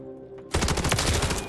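Burst of rapid gunfire in Call of Duty MWIII, shooting through a wall, bursting in suddenly after a quiet start and staying loud and dense as the shots run together.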